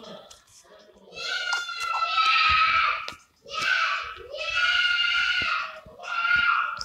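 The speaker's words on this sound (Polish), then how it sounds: "jakieś krzyki," Guests scream in a room during a home recording session for a mobile running game. Shrill, sustained high-pitched shrieks come in several bursts with brief gaps between them, loud and fairly close.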